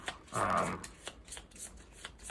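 A deck of cards for the Power Rangers Heroes of the Grid board game is riffled back together in one quick, close burst, followed by a few soft card taps and handling sounds.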